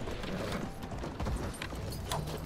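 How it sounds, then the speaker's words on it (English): Horse hooves clip-clop in Battlefield 1 amid busy battlefield noise, a short run of mid-distance hoofbeats mixed with mechanical clatter and steady background din. "Thought that was a enemy horse, but whatever."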